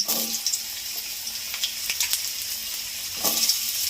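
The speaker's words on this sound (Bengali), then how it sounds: "মটর ডালের জন্য আলু ভাজছি।" Potatoes frying in oil in a karahi for vegetarian matar dal, a continuous close sizzle with intermittent stirring scrapes and a brief louder burst near the end, no one talking.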